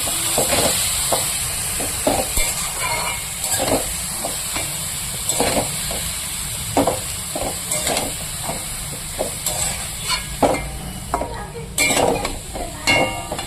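Cabbage seasoned with salt and turmeric is stirred in a pan, with steady sizzling and frying hiss under repeated scraping strokes of a spoon throughout, close and fairly loud with no talking.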